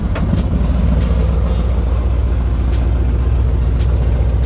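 A 1983 Chevrolet C10 truck engine runs steadily after starting, a loud, close, continuous low rumble with no talking.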